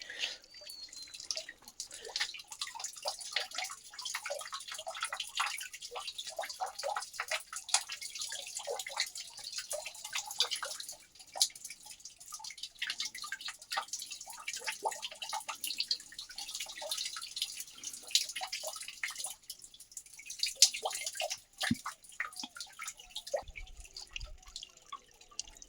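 Water trickles from a pipe into a traditional village spring well in the Uttarakhand hills, a continuous soft splashing and dripping with irregular patters, faint and steady throughout.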